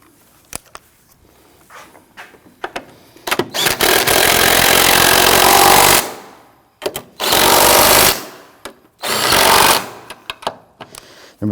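An impact wrench snugs down the three strut top nuts on a 2001-2009 Volvo S60, heard as three loud sustained buzzing bursts of about two seconds each, close by, separated by short pauses and small clicks.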